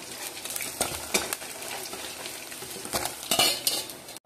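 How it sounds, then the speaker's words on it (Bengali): Pieces of rohu fish fry in hot oil with a steady, close sizzle, broken by occasional clinks and scrapes of a utensil turning them in the pan. "এইভাবে আমি বাকি মাছগুলো ভেজে নেব।"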